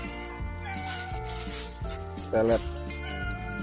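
A cat gives a short meow beside a coastal fish pond, a brief cry in the middle, heard under steady music and someone talking.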